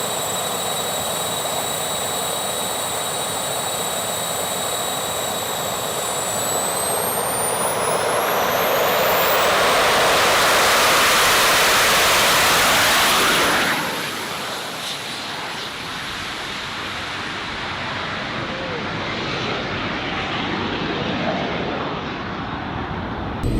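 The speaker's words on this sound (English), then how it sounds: "Full jet power, launch mode enabled." Jet engines mounted on a Tesla car, a loud continuous roar with rising whines that climb toward full power and then settle into a steady rushing blast.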